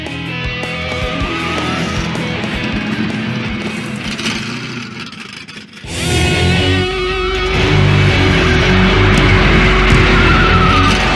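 A 1971 Pontiac GTO Judge races a 1987 Buick Grand National, with loud engines roaring, tires skidding and squealing, and a sudden surge of engine noise halfway through.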